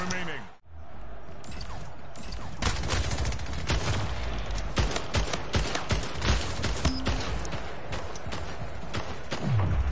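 Gunfire in the Splitgate video game, with rapid bursts and sharp single shots crackling throughout, a sniper-style report among them, mixed with in-game effects and occasional speech.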